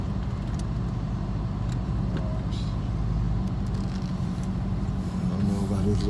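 A Dodge Hellcat with over 700 horsepower rolls along with a low, steady engine rumble and road drone heard from inside the cabin, holding constant with a slight rise near the end, while people speak over it.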